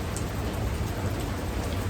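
Rain falls steadily on a metal roof, a dense, loud, unbroken patter and hiss with no talk over it.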